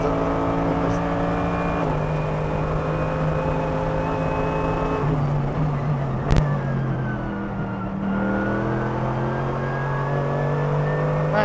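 Mercedes-AMG GT3 race car lapping the Nordschleife, its engine droning loud and close from the cockpit, pitch holding and shifting through gear changes with a brief sharp spike midway and a dip before climbing again; a voice talks over it.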